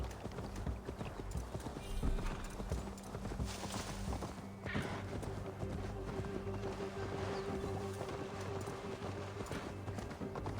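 Horse hooves clip-clop steadily as a horse is ridden in the video game Assassin's Creed Valhalla, with a continuous rhythmic trot and a brief snort or whinny over a background of game ambience.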